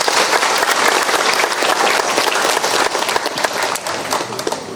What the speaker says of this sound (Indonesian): Tepuk tangannya dulu dong semua.